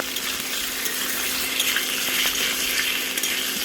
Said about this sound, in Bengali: দেখুন বন্ধুরা, আলুটা ভালো করে ভেজে নিই।